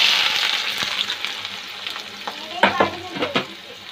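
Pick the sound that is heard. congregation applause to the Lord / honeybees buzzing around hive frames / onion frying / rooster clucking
onion frying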